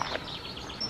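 Faint bird chirps outdoors in Scotland, a few thin brief calls over a low background hum.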